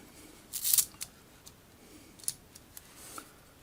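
Faint, irregular metallic rattling and light ticking clicks from the balancing mass of a timer mechanism, a brief cluster followed by scattered taps, close by and quiet.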